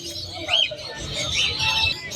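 Pet birds at the Malabon pet market, including blue clear pied birds, give faint scattered chirps and soft calls amid a low, hushed market background.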